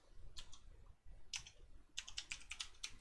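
Bursts of quick keystrokes on a computer keyboard while coding a web page layout, a short clatter, a pause, then a faster run of close, quiet key clicks.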